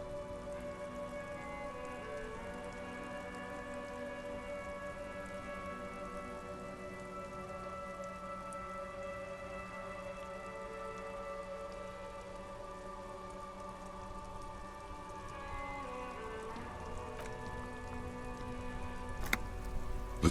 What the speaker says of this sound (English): The rain is bleak.